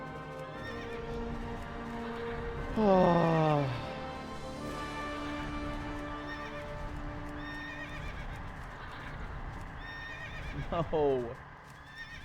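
Horse in World of Warcraft Classic, giving two loud descending whinnies several seconds apart over steady hoofbeats, while someone talks throughout.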